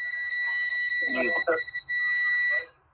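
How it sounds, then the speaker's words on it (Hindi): A multimeter gives a steady, shrill continuity beep as its two probes touch, the tone holding for nearly three seconds with a brief break while someone talks over it. "जैसे ये मेरे दोनों प्रोब आपस में भिड़ाता हूँ, करंट पूरा पास हो जाए दोनों प्रोब के बीच, तो बीप आएगा।"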